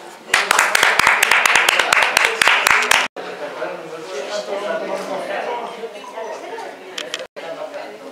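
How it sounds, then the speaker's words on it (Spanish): Two people clap rapidly at an awards ceremony for a journalists' circle, sharp close claps for about three seconds before room chatter and talk take over. "¿Se animan a aplaudir entre los dos ahora?"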